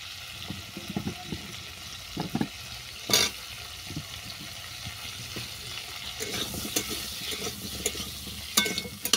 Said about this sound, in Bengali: আলু শসাটাকে ভালো করে ভেজে নেব।